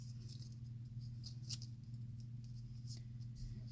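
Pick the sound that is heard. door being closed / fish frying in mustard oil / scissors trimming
scissors trimming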